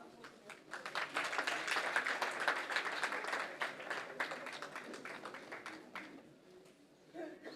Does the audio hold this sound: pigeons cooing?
no